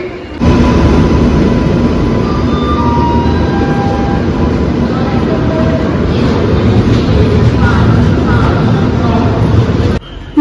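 A train pulls in to platform 2 of a station with a loud, continuous rumble and rattle of rolling carriages that holds steady for about ten seconds. Crowd babble sits underneath.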